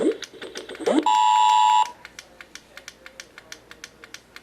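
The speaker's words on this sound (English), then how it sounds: "We have to keep clicking this dumb thing for it to work." The action button on a Tyco Mattel Hot Wheels Team Race Challenge set sounds a steady electronic beep, then is clicked over and over in a quick, even run of sharp, close plastic clicks.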